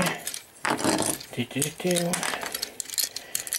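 A Transformers Age of Extinction Voyager-class Hound toy figure's plastic weapon parts being detached and handled: quick, close clicks and light rattles in irregular bursts, with faint talk now and then.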